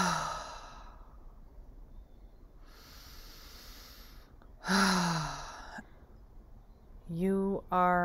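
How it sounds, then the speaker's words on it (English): Slow, deep breaths drawn in and let out with an audible hiss, a few spaced inhales and sighing exhales heard up close, separated by quiet pauses. "Take a few deep breaths."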